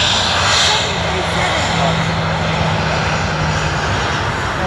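A jet airliner at Sydney Airport fills the scene with a loud, steady engine roar from start to finish, its broad rumble continuous with no pauses, while a voice talks faintly underneath.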